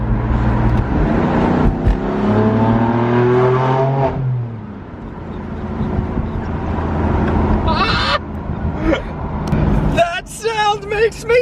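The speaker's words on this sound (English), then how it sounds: "We even get turbo blow off." A BMW M4 F83 engine revs hard with rising and falling exhaust tones, ending in a few sharp turbo blow-off hisses and pops near the end, loud and close, with people talking over part of it.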